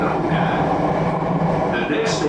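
An MRT Jakarta train runs along an elevated track, giving a steady, loud rolling rumble that continues without a break, with a brief hiss rising near the end.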